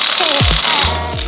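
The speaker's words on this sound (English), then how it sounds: "Hammer this in." Hammer strikes driving a part into a Ford Bronco during a 3.5-inch Rough Country suspension lift install, a few loud, sharp metallic blows with ringing decays in a garage.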